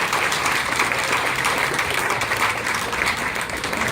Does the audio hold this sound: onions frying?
no